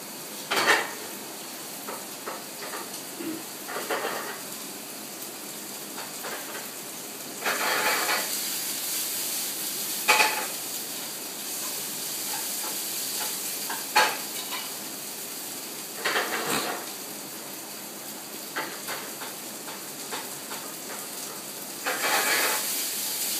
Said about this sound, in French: Là vous avez donc la galette fait maison qui est en train de cuire